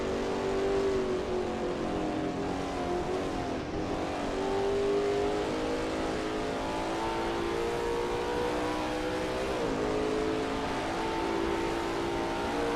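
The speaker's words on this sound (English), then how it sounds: "That ASRL T70 MkII Spyder looks good driving through turn 9." Lola T70 MkII Spyder race car in a racing video game at Riverside, steady loud engine drone with shifting pitch as it drives through a turn, continuous without pauses.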